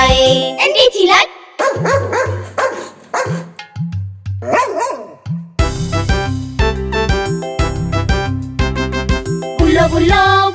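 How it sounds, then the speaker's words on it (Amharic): In a children's song about a pet dog, sung vocals alternate with bright, loud dog barks that come in bursts over a bouncy accompaniment. "የምወደው ውሻዬ ቦቢሻዬ ቦቢሻዬ ቦቢሻዬ ቦቢሻዬ የምወደው ውሻዬ እንዴት ይላል?"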